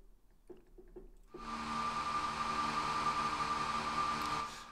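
A hair dryer, processed with granular synthesis, blows steadily after a few soft clicks, a broad rushing whoosh with a faint whine that holds constant until it cuts off.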